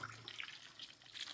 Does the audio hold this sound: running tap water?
yes